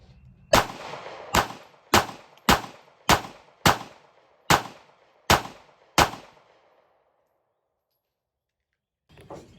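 A Ruger LCP Max .380 pistol fires nine sharp shots in a fairly steady rhythm, each loud crack ringing out briefly, then a pause and the start of one more sound at the end.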